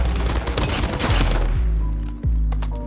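Sustained heavy gunfire from a RAAL MG light machine gun in Call of Duty Mobile, a loud dense burst of rapid shots with booming low end, tailing off into a few separate heavy reports near the end.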